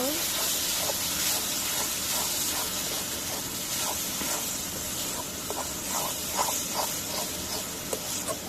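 Egg masala being sautéed for egg bhuna, a continuous hissing sizzle with scattered spatters and stirring clinks, close and steady throughout.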